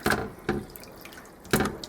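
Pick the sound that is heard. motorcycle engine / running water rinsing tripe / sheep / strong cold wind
running water rinsing tripe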